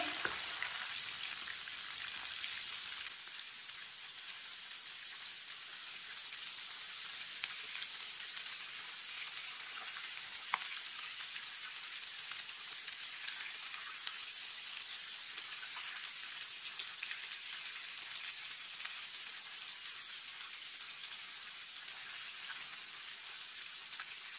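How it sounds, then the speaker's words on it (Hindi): Chicken frying in a pan, a steady, even sizzle and hiss that runs unbroken and close throughout, with faint crackles scattered through it and no voices. "चिकन को 2 मिनट के लिए फ्राई होने देते हैं"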